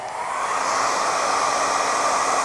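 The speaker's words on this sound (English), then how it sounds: "when you're blow drying your hair, especially on shorter hair, you want to lift like this" A hair dryer blows steadily at close range while shorter hair is lifted and styled with the nozzle, a continuous even rush of air with no pauses and no speech.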